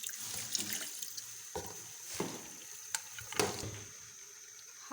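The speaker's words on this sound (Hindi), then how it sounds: "थोड़ा सा पानी डाल दूँ, गर्म पानी यूज़ करना।" Hot water runs and splashes steadily into a karahi of cooking beef nearby, with a few clinks and knocks of cookware breaking up the flow.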